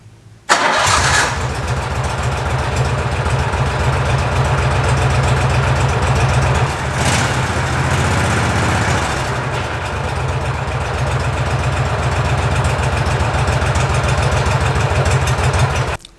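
A John Deere engine cranks briefly, catches and settles into a steady, loud, even idle that runs continuously with a slight dip midway, just after a machined clutch install.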